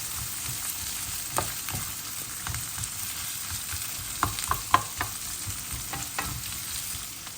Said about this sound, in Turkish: Biraz da bunu soteleyeyim.